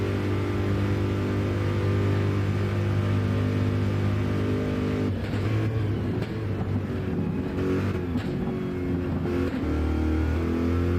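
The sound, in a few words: Corvette race car engine revving high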